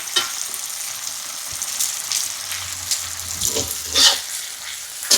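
Onion frying in a pan over a wood fire outdoors, a steady bright sizzle with occasional stirring scrapes and pops, close and loud with no talking.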